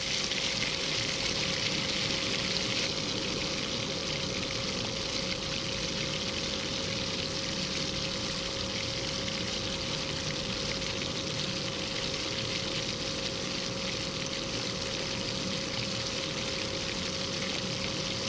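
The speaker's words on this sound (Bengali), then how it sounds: "কিছুক্ষণ নাড়াচাড়া করে ফিরে ফেলে দেব, মশলাটা যাতে কষানো হয়।" Spice masala of cumin and coriander powder fries in a pan for a tengra fish bhuna, a steady, loud sizzle and hiss that runs continuously without any talk.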